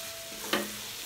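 Spices and paste for Manado-style ayam woku frying in oil that has begun to bubble on its own, a steady low sizzle with a brief stirring scrape near the middle; no talking.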